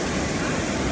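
At Dudheko Raha near Pokhara, a waterfall gives off a dense, continuous rushing roar, close and even throughout.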